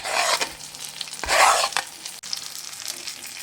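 Masala paste stirred into eggplant frying in a pan, with a hiss of sizzling oil, scraping spoon strokes and a louder burst of sizzle partway through, close up.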